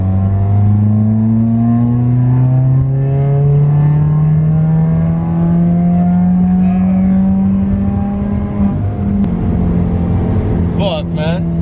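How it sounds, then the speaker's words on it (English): Subaru WRX with an Invidia J-pipe pulling hard in third gear at wide-open throttle on a freeway, its engine note climbing steadily and loud throughout, heard from inside the car, with a faint voice near the end. "we're gonna be doing some third gear wide open throttle pulls here for the data logs"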